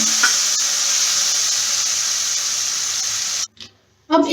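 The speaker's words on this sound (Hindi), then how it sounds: "पानी मिलाते हैं।" Water poured into a sizzling masala for whole roasted cauliflower, a loud steady sizzle that cuts off abruptly into near silence, then briefly flares again at the end.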